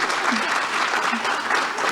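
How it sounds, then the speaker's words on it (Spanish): Audience at a conference session on AI and emerging technologies applauding the panelists, a dense, steady clatter of many hands filling the room. "les pido un aplauso grande a todos los panelistas"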